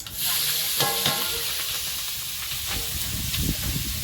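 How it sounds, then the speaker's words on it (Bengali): Chopped onion and green chili fry in oil left from frying fish, giving a loud, continuous hissing sizzle up close, with occasional stirring scrapes. "এবার তেলের মধ্যে পেঁয়াজ কুচি আর কাঁচা লঙ্কা দেবো"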